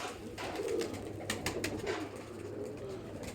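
Pigeon cooing near at hand, soft low murmuring coos in short phrases under steady room noise, from a loft of fancy pigeons with violet feet.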